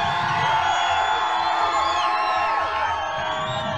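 Heavy metal concert crowd in Philadelphia in 1989 cheering, whooping and screaming loudly and continuously, a dense wall of many voices with shrill whistling cries rising and falling throughout.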